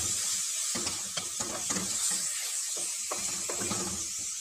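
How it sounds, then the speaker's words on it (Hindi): Chopped onions, two cut tomatoes and masala frying in a pan for aloo palak, a steady sizzle with intermittent scraping stirs and soft crackles, close and moderately quiet, no talking. "थोड़ी देर के लिए इसको भून लेता हूँ मसाले"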